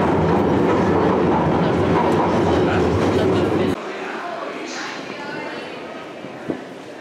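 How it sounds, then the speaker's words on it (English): A London Underground train rumbles loudly along the rails, then the noise drops off abruptly into a quieter hum with a brief clank near the end. "Mind the gap between the train and the platform."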